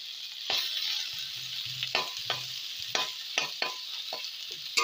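Banana and onion stir-frying in a pan, with a steady sizzle under a spatula that scrapes and clatters in irregular bursts, close and moderately loud, with no voices.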